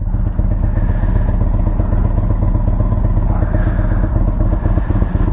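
Engine of a 2015 Indian Chieftain motorcycle running at idle nearby, a steady loud low rumble with even pulsing and light mechanical clatter, no one talking over it.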